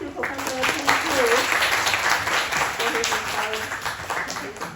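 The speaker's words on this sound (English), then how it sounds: "let's have a big round of applause for thank you, Professor Chen Fu" Conference audience at an academic tourism event applauding a professor, a burst of steady clapping with a few voices talking over it at moderate distance.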